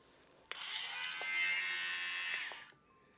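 An electric lint remover runs for about two seconds with a steady, high, loud whirring buzz. It starts and stops abruptly, with small clicks at power on and off, and no one speaks while it runs.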